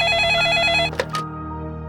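A telephone rings indoors at night, a close, loud electronic ringtone with a rapid warbling pattern, then cuts off and leaves a faint tone and low background hum.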